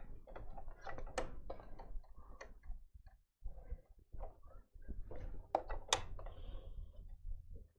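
A sewing machine stitching fabric for a quilting workshop gives close, rapid mechanical ticking and clattering in bursts, with a short pause midway before it resumes.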